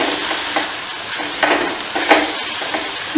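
Onions frying and being stirred in a kadai, a steady sizzle broken by repeated scraping stirs, close and moderately loud with no talking.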